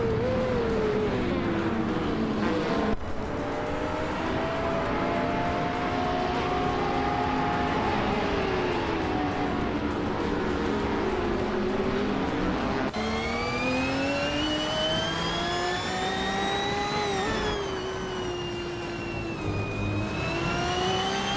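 2019 BMW M8 GTE race cars roaring around a track, a loud continuous engine drone whose pitch rises and falls as gears shift, with a sharp change near the middle and no talking.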